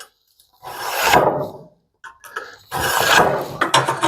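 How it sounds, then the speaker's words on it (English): A screwdriver's sharp edge scribes a marking line along a square on a mini fab table build, giving two long, close scratchy rasps separated by a brief pause, with a few short strokes at the end. "what I want to do is use the sharp edge of a screwdriver to mark this"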